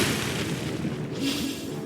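The Brionac weapon firing in the video game Trails of Cold Steel III, a loud, heavy booming blast that rumbles and swells over about two seconds, with no voices.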